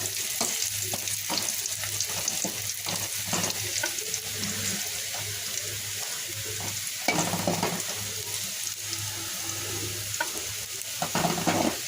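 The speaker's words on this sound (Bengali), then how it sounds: "আমি কড়াইতে পেঁয়াজ তেল দিয়ে ফোড়ন দিব একটু বাদামি করে ভেজে নিচ্ছি" Onions sizzle and crackle in hot oil, browning, with repeated scraping and stirring strokes against the wok, steady and close.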